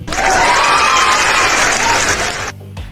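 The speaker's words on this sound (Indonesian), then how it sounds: "Kita tepuk tangan buat Mas K ya guys" A studio audience claps for a guest on an Indonesian talk show, a dense burst of applause that holds loudly for about two and a half seconds, then stops abruptly with a faint trailing sound.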